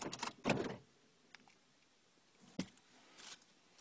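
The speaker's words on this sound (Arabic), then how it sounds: "إلين تسمع الأبواب تقفلت" A few quick mechanical clunks, a pair close together then a single sharp one, as a Ford's door locks actuate, in a quiet setting.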